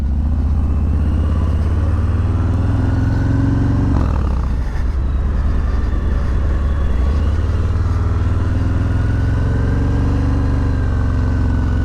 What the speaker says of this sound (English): That Milwaukee A107 with this 2-in-1 exhaust sounds really good.